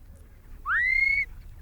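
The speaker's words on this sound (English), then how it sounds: "When the dogs are almost out of earshot, Johnny whistles his commands" A shepherd gives a single sharp rising whistle command to collie sheepdogs, brief and clear, over quiet outdoor background.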